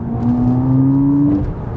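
A 2023 smart #1 BRABUS small electric car accelerating, heard from inside the cabin as a steady rising electric whine over low road rumble, loud and continuous with no voices.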